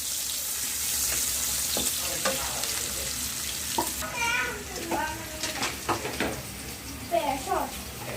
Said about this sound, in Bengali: একটু ভালো করে নেড়ে চেড়ে দেন হচ্ছে ভেজে নিতে হবে।